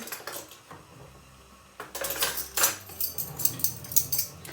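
Metal measuring spoons clink and tap against a small glass jar while oils are readied for a hot oil hair treatment, giving a run of close, irregular bright clinks with no talking.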